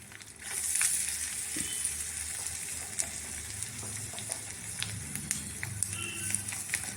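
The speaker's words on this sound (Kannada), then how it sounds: "ಇದೆಲ್ಲ ಚೆನ್ನಾಗಿ ಫ್ರೈ ಆಗಲಿ." Crushed garlic, cumin and pepper fry in hot tempering oil for a spiced rice dish, giving a continuous close crackling sizzle with scattered pops and small stirring scrapes.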